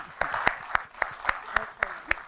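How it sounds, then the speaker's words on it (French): At an event on impact entrepreneurship between France and Africa, a small group claps in a slow, evenly spaced rhythm, about nine distinct claps, fairly faint. "il faut applaudir ça"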